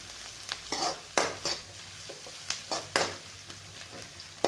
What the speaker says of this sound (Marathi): कांदा आपल्याला छान गुलाबी होईपर्यंत चांगला तळून घ्यायचा आहे भाजून घ्यायचा आहे